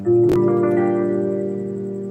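A single minor chord struck once on a piano, ringing out with sustained tones and slowly decaying, with a sharp click near the start.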